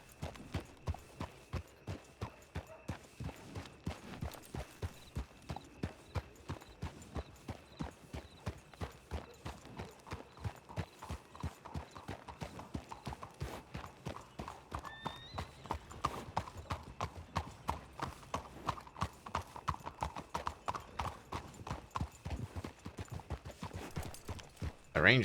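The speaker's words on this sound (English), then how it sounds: "Sounds like we just rode in." Horse hooves clip-clop in a steady, rhythmic gait while riding through a town in a video game, fairly close and continuous throughout, with a brief whinny partway and no talk over it.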